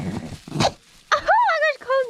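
A puppy whimpers in a few high, wavering whines after some rough, noisy sounds and a brief pause, close and fairly loud.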